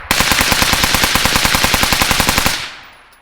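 Suppressed rifle with an adjustable gas block firing one rapid, evenly spaced string of about two dozen loud, close shots, ending in a fading tail.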